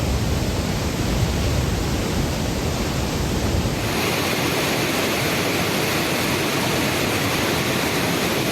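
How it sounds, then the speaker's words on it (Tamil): Water roars down Thirparappu waterfall in a loud, steady, unbroken rush of noise heard close up, with no voices. "திற்பரப்பு அருவியில் தண்ணீர் ஆர்ப்பரித்து கொட்டுகிறது"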